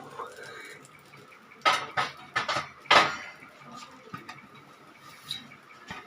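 A metal lid is set onto a dosa pan with a few clattering clinks and knocks in quick succession, moderately close in a quiet kitchen.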